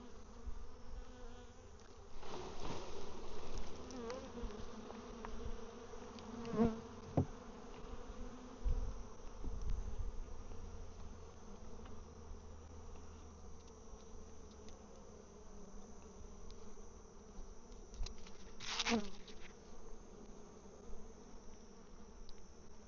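Honey bees shaken off brood frames drone in a dense, steady buzz close by, swelling briefly with a few knocks and thumps from handling the hive.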